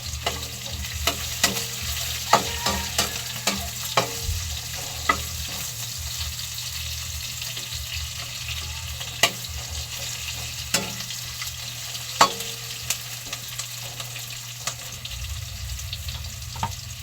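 Ginger, garlic and espada fish sauté in a pan for a spicy curry, making a constant soft sizzle. Sharp scrapes and knocks from stirring cut through it at irregular intervals, close by.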